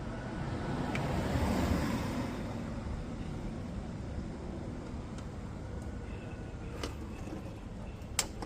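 Engine oil pours into a funnel during a 2018 BMW X5 35i oil change, a continuous rushing gurgle close to the microphone that fades slightly midway, with a few faint clicks near the end.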